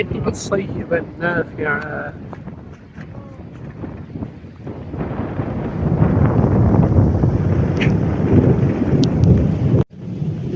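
A voice speaks briefly, then a loud, steady gusting wind roar takes over and fills the rest, outdoors at Kakri Beel wetland in Chalkidanga with lightning in the sky.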